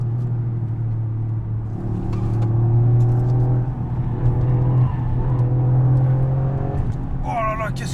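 A Toyota Yaris GR hot hatch on the move, with a steady, droning engine hum and road noise heard from inside the cabin, and a person speaking over it in places.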